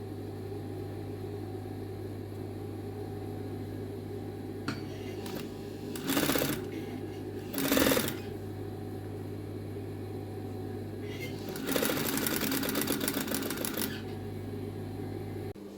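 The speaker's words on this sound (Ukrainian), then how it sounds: "йду сшивати на швейній машинці" A sewing machine stitches a zipper seam with a zipper foot while sewing a jumpsuit. It runs in short bursts and then one longer run, close and clear over a steady electrical hum, with no talk.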